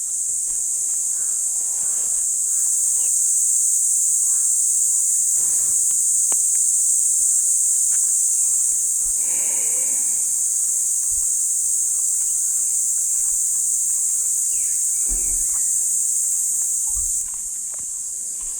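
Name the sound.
crickets chirping in the forest at night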